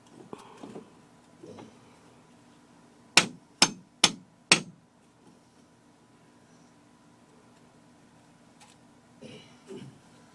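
Plumbing seal tapped into place, four sharp close hammer-like knocks in quick succession midway, surrounded by quiet handling and faint murmuring.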